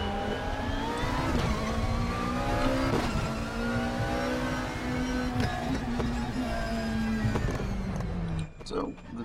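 GT3 race car lapping Sonoma Raceway in the RaceRoom sim, a steady loud engine drone holding high revs with gear changes and shifting pitch throughout, dropping off briefly near the end.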